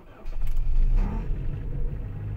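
A Hyundai Solaris engine cranks and starts in minus 26 frost after a year of little use, catching within a second and settling into a steady, slightly rough idle close by.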